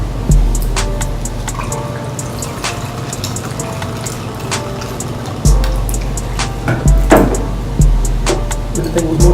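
Sweet and sour mix poured into a cocktail behind a bar, a liquid trickle and splash under busy, noisy room ambience with clinks and thumps.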